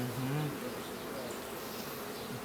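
Honeybees swarm around an open hive during a colony split, making a faint, steady, diffuse buzz that fills the air with no clear pauses.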